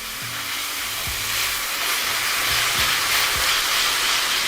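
Browned lamb frying in a karahi, a steady loud sizzle and hiss of hot oil with a few faint scraping knocks from stirring, no talk.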